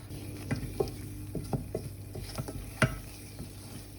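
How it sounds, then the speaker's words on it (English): Flour being stirred into melted butter in a pan, soft intermittent scraping strokes and faint sizzling, quiet and close, with a few sharper taps of the utensil and no voices. "melt butter, stir in flour until smooth and remove from heat"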